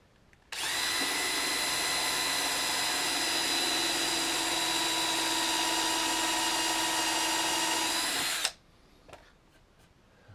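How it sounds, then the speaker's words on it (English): A power drill countersinks screw holes in a wooden sawhorse top, one loud, close, continuous high whine lasting about eight seconds that stops abruptly, followed by a few faint clicks. "since this is going to be the top, I'm going to go ahead and countersink this row"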